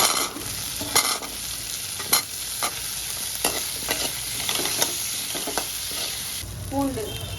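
Peeled shallots and curry leaves crackle in hot oil for a paneer Chettinad gravy, with a steady sizzle broken by repeated sharp stirring scrapes close by.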